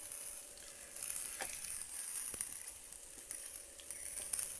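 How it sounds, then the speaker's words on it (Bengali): Onion and garlic fry in a pan with turmeric, salt and chili powder, giving a soft, steady sizzle with occasional faint stirring clicks and scrapes. "দেওয়ার পর ভালো করে এটাকে কষিয়ে নিতে হবে।"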